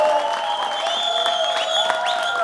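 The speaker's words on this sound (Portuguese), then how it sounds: "Muitas palmas." A church audience applauds at a televised program, a continuous clapping wash mixed with sustained, wavering tones, fairly close and lively throughout.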